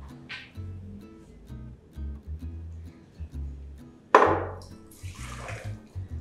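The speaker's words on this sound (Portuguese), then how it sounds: "Esses 500 ml de água eu vou colocar numa jarra" Half a liter of freshly boiled water poured into a jug for homemade kombucha, a short splashing gush midway that tails off into trickles, with quiet low murmurs around it.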